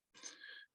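A single sneeze bursts out during an American college football coach's press conference, a short breathy blast lasting under a second, close to the microphone and fairly faint.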